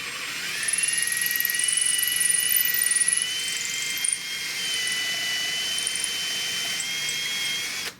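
A drill bores a hole in a new wooden stock for a Spanish-made Richland Arms 20-gauge shotgun, giving a close, steady high-pitched whine for about eight seconds, with a brief dip midway and no talking.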